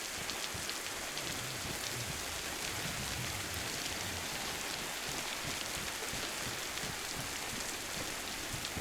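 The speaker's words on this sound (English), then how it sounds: "The rain is really helping me." Steady, even rain pours throughout in the video game DayZ, a dense hiss of drops on surfaces with no pauses and no speech over it.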